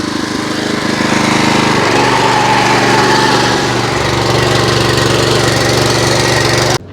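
Pull-start engine on a farm machine running continuously, a loud, close, buzzing putter that shifts slightly in pitch midway as the load changes, then cuts off abruptly at the end.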